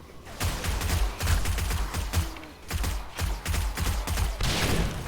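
Rapid series of heavy booming blasts from grenade explosions in the survival game 7 Days to Die, irregular and crowded together, loud and close, with no talking during the blasts.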